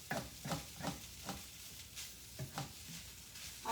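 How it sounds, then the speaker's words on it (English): A utensil stirs and breaks up clumps of sticky rice with carrots in a pan, making faint rhythmic scraping strokes about twice a second over a soft sizzle, with no talk. "So I'm just stirring and breaking them up."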